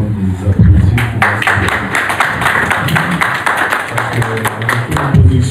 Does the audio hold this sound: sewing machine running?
no